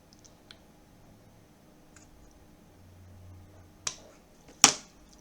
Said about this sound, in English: I'm going to trim this piece off.